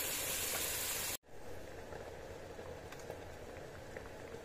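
Onion, garlic, coriander, cumin and poppy seed masala sizzling in a pan. A loud, dense frying hiss is cut off suddenly, then a softer, steady sizzle follows with faint scattered pops.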